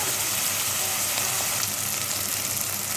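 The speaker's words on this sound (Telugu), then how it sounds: "అన్ని ముక్కలన్నీ ఫ్రై అవుతున్నాయి ఫ్రెండ్స్" Pieces of food frying in hot oil with ginger-garlic paste for Telangana-style bagara rice give off a dense, continuous sizzle, loud and close, with no voices.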